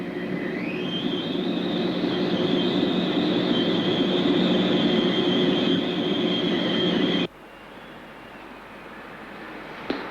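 TGV train wheel being reprofiled on its axle by a computer-assisted machine, a loud steady rising whine and grinding hum that runs for several seconds then cuts off abruptly to a lower background, no speech.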